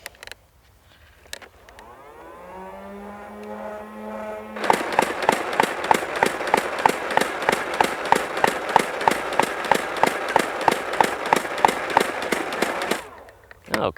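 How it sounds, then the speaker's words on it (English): A Nerf N-Strike MEGA Mastodon blaster spins up with a rising motor whine, then fires on full auto in a fast, even string of loud pops over a continuous whir, about two dozen shots, ending with the motor winding down. "This time we're gonna hold it like you are meant to and just unleash it on full auto, all 24 rounds"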